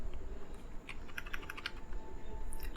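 Quiet, steady typing on a computer keyboard, a run of soft, irregular key clicks with brief pauses, close by and with no talking.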